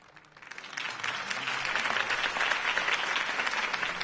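A crowd breaks into applause for Harvey Dent's campaign speech in a video game, the clapping swelling quickly from a few hands into a dense, sustained ovation that stays loud to the end.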